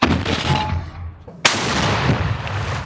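A single loud tank cannon blast cracks out mid-clip, followed by a rumbling decay over steady low background noise.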